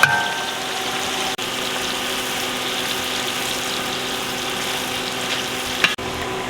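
Onions hiss into hot ghee in a village kitchen, with a loud, steady frying sizzle that holds for several seconds before a brief break near the end.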